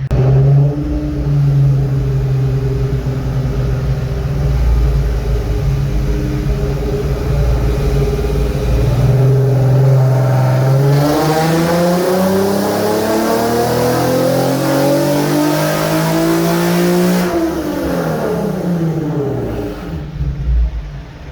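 A tuned car engine on a dyno revs hard and loud, holding steady, then climbing in pitch through a long sustained pull before dropping off.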